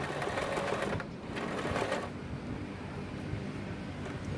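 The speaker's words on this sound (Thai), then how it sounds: "เหยียบที่สวิตเท้านะครับ กดอันนี้เย็บย้ำครับ เย็บถอยหลัง" An Elna 2006 sewing machine stitching in reverse runs steadily with a fast, even mechanical whir and clatter throughout, close and fairly quiet, easing briefly around the first second.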